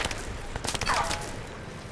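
Several sharp, rapid gunshots crackle in a short burst in Crysis 3, mixed with game effects and a brief whooshing tone, fairly loud throughout.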